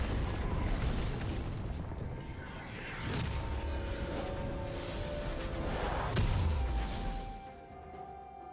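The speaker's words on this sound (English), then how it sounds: "Blue team's turret has been destroyed." Explosive rumbles and bursts in a League of Legends match as a turret is destroyed, a sustained low roar with a louder boom and whoosh near the end, mixed with dense game effects.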